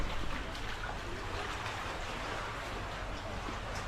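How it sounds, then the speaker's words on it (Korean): Water around stilt houses over the sea in Malaysia makes a steady, moderately loud broadband wash and murmur that continues unbroken, with no voices. "물소리 들려요?"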